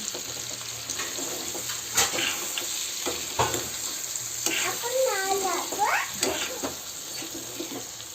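Egg bhurji, scrambled eggs cooking in a pan on low gas, gives a soft sizzle under intermittent scraping and stirring clicks, with a steady high whine in the background and a short warbling tone in the middle.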